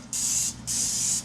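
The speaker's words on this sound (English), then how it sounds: "So what I'm going to do is spray my pan right now." Cooking spray hisses onto a muffin pan over a sink in two short close bursts with a brief pause between them.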